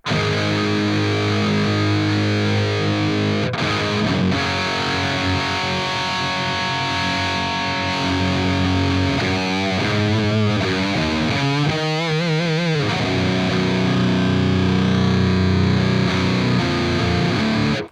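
An electric guitar played through the Neural DSP Archetype Gojira dirt pedal, a Rat-style distortion with a fuzz-like edge, rings out sustained, heavily saturated chords, followed by wobbling modulated notes and a final loud chord, with no talking.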